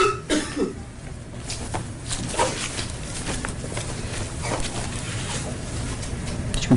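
A juror in a courtroom coughs repeatedly, with several short, rough bursts scattered over a low murmur of room noise, fairly close and moderately loud.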